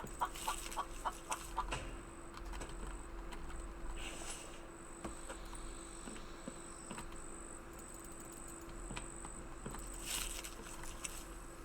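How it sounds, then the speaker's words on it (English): Clucking chicken in a survival building video game, a few short calls buried in a steady insect-like buzz and constant background hum, fairly faint throughout with no talking. "Where the hell did the damn chicken come from?"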